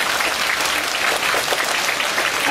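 Sustained audience applause at a musical theatre curtain call, dense and even clapping from a large crowd filling the hall, loud and unbroken for the whole stretch.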